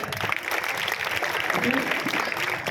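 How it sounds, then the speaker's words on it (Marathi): A seminar audience at a live event in Majalgaon claps in a dense, continuous patter, with a voice speaking over the applause. "लोक टाळ्या वाजवतील तर टाळ्या झाल्या पाहिजेत"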